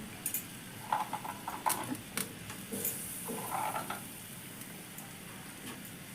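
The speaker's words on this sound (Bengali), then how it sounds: "মাছগুলো আমি এক এক করে ছেড়ে দিচ্ছি।" Pieces of bata fish slipped one at a time into a hot pan of oil, each drop setting off a brief burst of sizzling over a steady crackling fry, close and moderately loud with no voices.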